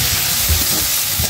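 Fish and vegetable charchari fries and is stirred in a pan, giving a close, steady sizzle with soft stirring scrapes underneath.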